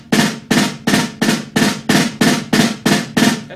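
Drumstick strokes on a drum head repeat in an even rhythm of about eight sharp, close, bouncy hits, each one followed by a short decay.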